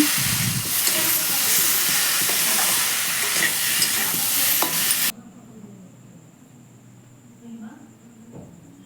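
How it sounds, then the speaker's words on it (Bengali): Tengra fish masala sizzling loudly in a hot pan as it is stirred, a close steady frying hiss that cuts off abruptly, leaving quieter scraping and faint kitchen sounds. "এই দেখো আমি নাড়াচাড়া করে মশলাটা আমি খুব ভালো করে কষিয়ে নিচ্ছি"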